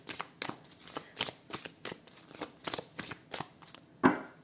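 Tarot cards shuffled by hand in quick, regular riffling flicks, close and soft, ending with a sharper snap as the deck is cut.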